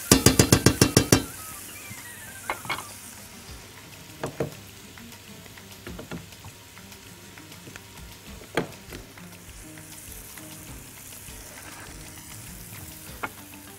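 Chicken thighs with onions sizzle and fry steadily in a pan, opening with a quick burst of loud crackling clatter, then settling into a continuous hiss marked by scattered sharp pops and clinks throughout.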